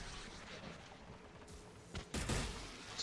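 Gunfire in the Mass Effect 3 video game, heard at low level: a muffled bed of game action builds into a sudden, louder burst of shooting and blasts toward the end, with no one talking.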